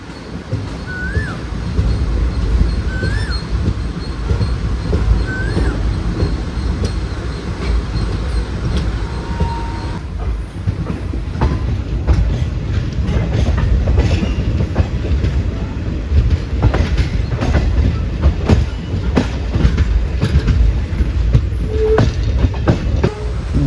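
A train rumbles steadily along the Secunderabad–Machilipatnam line, loud and close, with rhythmic wheel clatter and a faint squeal throughout.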